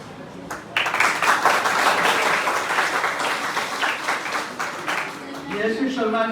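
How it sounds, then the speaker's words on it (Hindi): An audience at a live stage event in India bursts into dense, sustained applause after a brief quiet start, the clapping staying loud and steady for several seconds before a voice begins speaking over its fading tail. "तालियां बजाइए उनके लिए।"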